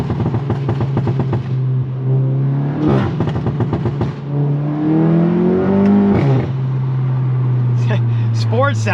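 An MK7 VW GTI with a MAP downpipe revs and rumbles in sport mode, engine droning and rising in pitch while quick crackling pops and bangs burst from the exhaust. People talk over the engine noise.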